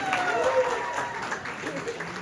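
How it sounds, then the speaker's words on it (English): A party crowd applauds the birthday boy at a 40th birthday celebration, a brief round of clapping with voices talking over it. "let's give the party boy a round of applause"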